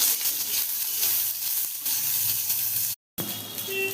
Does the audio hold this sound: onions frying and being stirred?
yes